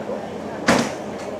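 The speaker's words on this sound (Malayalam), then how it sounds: "ഡോറുകൾ അടച്ചുകൊണ്ടിരിക്കുകയാണ്." A carriage door on the Nilgiri Mountain Railway toy train between Mettupalayam and Ooty shuts with a single short, fairly close thud over low station murmur.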